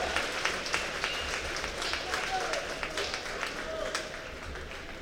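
A crowd in a gym applauds during a basketball senior recognition, a sustained wash of clapping with scattered cheers at moderate distance and a voice faintly beneath.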